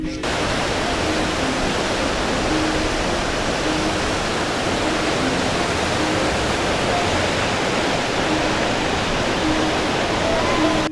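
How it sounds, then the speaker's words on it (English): High rapids on the Blue Nile, a loud, steady, broadband roar of rushing water that holds constant throughout with no breaks. "The rapids were really high, and the waters were too much."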